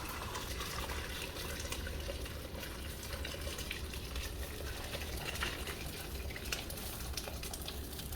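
Hot chicken curry juice pours steadily into a container with a soft, continuous splashing and gurgling, fairly quiet and uninterrupted.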